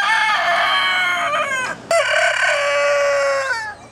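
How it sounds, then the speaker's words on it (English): Two roosters at a farm animal sanctuary in Watkins Glen, New York crow loudly with long harmonic calls, with a short cluck-like break midway, close to the listener and with no talk. "like these two roosters I met at Farm Sanctuary in Watkins Glen, New York."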